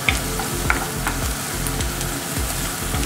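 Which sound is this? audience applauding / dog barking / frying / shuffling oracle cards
frying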